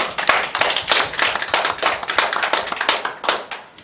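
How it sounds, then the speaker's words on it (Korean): Church congregation at a Korean Sunday worship service claps together in a lively, rhythmic burst, distinct individual claps forming uneven pulses that rise and fall close by, with no talking. "우리에게 은혜 주신 하나님께 영광의 박수 올려드리겠습니다."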